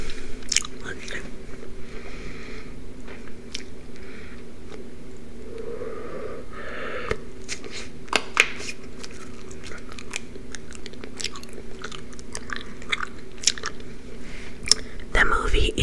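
Close, wet gum chewing with snapping, crunching bites repeating in an uneven rhythm, loud and intimate, with soft whispering between the chews.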